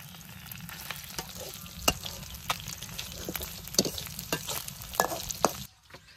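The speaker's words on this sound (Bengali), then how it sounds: "মাছ ভাজি হয়ে গেছে গা, নামে নেই।" Fish fries in hot oil at close range, a continuous crackling sizzle with scattered sharp pops and stirring clicks, steady throughout before cutting off abruptly near the end, with no voices.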